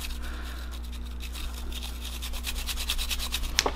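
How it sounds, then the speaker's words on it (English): A brass brush scrubs the cylinder-turning gears in the frame of a Heritage Rough Rider .22 LR revolver, giving soft, rapid bristle scratching strokes close up against a low steady hum, ending with a small metallic tap. "take the brass brush, clean all the gears that push the cylinder around in the frame"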